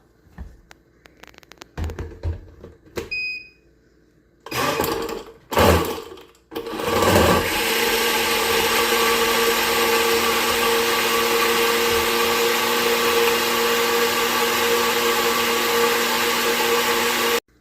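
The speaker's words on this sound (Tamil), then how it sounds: "இப்போ இது எல்லாத்தையும் நாம இப்போ நல்லா blend பண்ணிடலாம்." Blender whirring pomegranate lassi with ice cubes: a few short bumps and pulses at first, then a loud, continuous motor drone that runs steadily to the end and cuts off.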